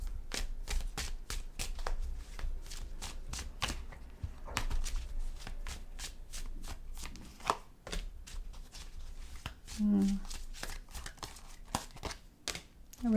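Tarot cards shuffled by hand up close, a long run of rapid crisp riffles and slaps with brief pauses, and a short voice sound near the end.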